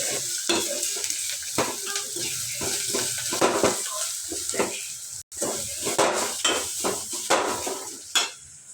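Turmeric is stirred into food in a cooking pan, with a close, continuous sizzle and repeated scraping strokes of the utensil in an uneven rhythm.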